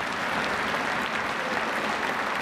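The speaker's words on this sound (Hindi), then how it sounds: "दोनों हाथ खड़ा करके जोरदार तालियों के साथ हम लोग समर्थन करें" Loud, sustained applause from a large crowd at an NDA parliamentary meeting, a dense unbroken wash of clapping that holds steady throughout.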